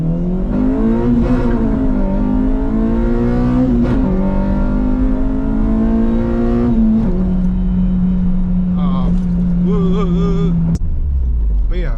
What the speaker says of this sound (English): it's whining because of the steering pump